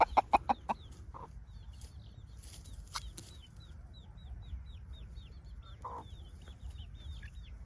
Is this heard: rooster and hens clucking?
yes